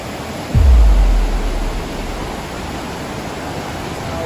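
A forest stream near Manali at night rushes in a loud, steady broadband wash of flowing water, with a low thump near the start.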